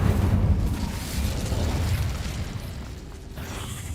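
An Incendio fire spell in Hogwarts Legacy is cast with a roaring, booming burst of flame that holds steady, then thins out toward the end.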